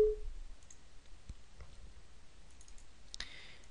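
A few sparse, faint computer mouse clicks on a Windows 7 PC, spaced out over a quiet background with no talking.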